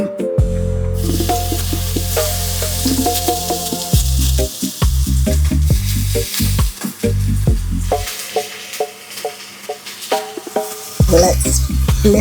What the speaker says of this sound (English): Now we're ready to hit it with our salmon for about 2 to 3 minutes before